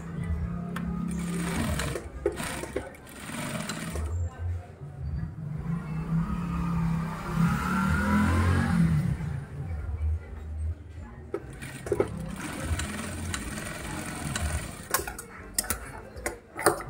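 Sewing machine stitching the border hem of a pair of jeans, a steady close mechanical whir that runs nearly throughout, with a louder continuous burst in the middle and brief stops and starts near the beginning and end.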